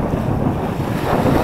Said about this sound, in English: The winds have really kicked up.